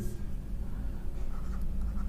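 Marker or chalk scratches across a board during a Class 10 physics lesson on the mirror formula, soft steady strokes heard close under a quiet room.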